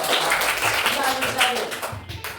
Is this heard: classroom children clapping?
yes